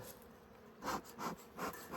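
Steady insect buzzing from honey bees in a hive during a hive inspection, swelling in a few louder pulses as they move close, with a low background hum throughout.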